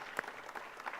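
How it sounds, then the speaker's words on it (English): Short burst of applause for a speaker at an inauguration event, a brief spatter of clapping from a small group, fairly soft and over within about a second. "Give her a very big round of applause."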